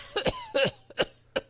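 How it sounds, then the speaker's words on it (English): Violent coughing as someone chokes up water: several harsh, wet coughing bursts in quick irregular succession, close and loud with brief gasps between. "He rolled to his side and began violently to cough up water from his mouth and nose."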